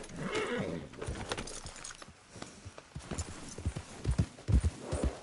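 Horse hooves clip-clop in a video game, starting as a soft, scattered patter and building into loud, close, rhythmic thuds toward the end, with a brief whinny-like sound early on.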